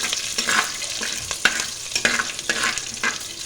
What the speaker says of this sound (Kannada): ಈ ಮಸಾಲೆಯನ್ನು ಹಾಕಿದ ತಕ್ಷಣ ಪಟಪಟ ಹಾಕಬೇಕು ಇದನ್ನು ಒಂದು ಎರಡು ಸೆಕೆಂಡ್ ಫ್ರೈ ಮಾಡಿದ್ರೆ ಸಾಕು